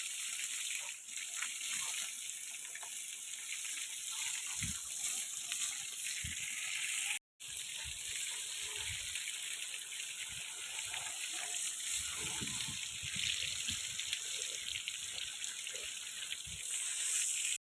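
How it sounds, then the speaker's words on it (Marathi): Water sprays against the outside walls of a house in a continuous hissing rush, broken by a brief cut partway through, with irregular splashes and knocks underneath. "मित्रांनो आपले अशा पद्धतीने पाणी मारून संपलेलं आहे"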